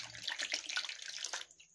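Water is poured a little at a time into flour with salt for momo dough, a near, light trickling splash that stops abruptly near the end, with no talking.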